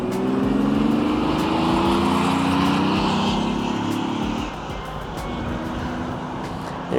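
A 1981 Datsun 280ZX sweeps past in a flyby, its engine note loud and close as it passes, then fading away to a quieter drone as the car recedes.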